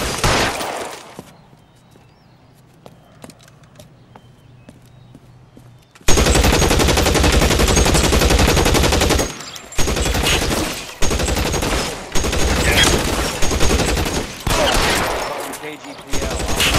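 Gunfire in the crime game L.A. Noire: after a quiet stretch, sustained loud bursts of rapid automatic fire erupt and keep going with short pauses, close and harsh, with shots cracking out in dense rattling volleys.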